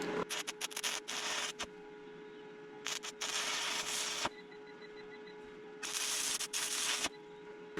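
An inverter welder lays a bead in several bursts of harsh, crackling buzz, each lasting a second or so, separated by quieter pauses with a steady hum behind, close and without talking.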